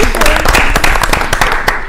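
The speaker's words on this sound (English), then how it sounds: "Big round of applause." Short, loud burst of applause from people at a school committee meeting, close dense clapping with distinct hand strikes and some voices mixed in.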